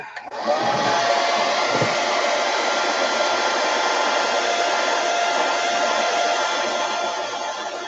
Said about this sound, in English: I need the hair dryer.